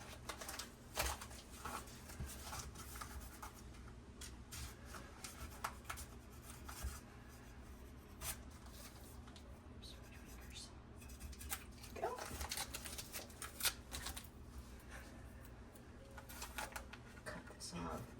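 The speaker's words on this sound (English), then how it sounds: "I'll use this X-Acto knife and trim your edges since it's so sharp" A sharp X-Acto knife trims the edges of crafting board for mixed-media Christmas trees made from repurposed wood, giving faint, quiet scraping and cutting strokes at close range in irregular bursts.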